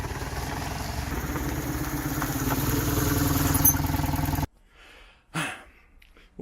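A BMW R1100GS motorcycle engine idles with a loud, steady rumble during its first test run after assembly, then cuts off abruptly, leaving near silence and a few faint sounds.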